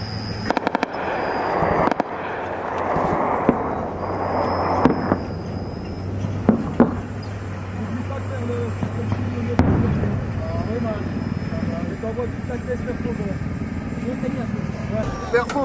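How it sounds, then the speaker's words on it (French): Gunfire in heavy combat between French Foreign Legion and Army troops and the Taliban in Afghanistan, heard as scattered sharp cracks and pops over a steady low engine drone, with voices talking throughout. "Il y a des tirs devant nous."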